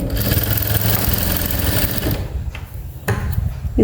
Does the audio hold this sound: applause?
no